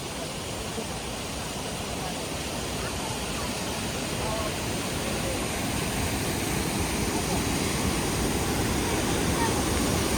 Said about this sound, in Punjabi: ਪਹਾੜਾਂ ਦੇ ਵਿਚਾਲਿਓਂ ਡਿੱਗਦਾ ਝਰਨਾ